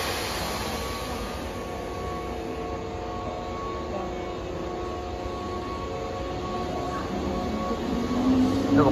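A Keihan 8000 series electric train passes with a steady, moderately loud rolling roar and faint motor whine that swells slightly near the end, with no talking.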